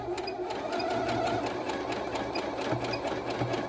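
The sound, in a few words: Lia sewing machine stitching a zigzag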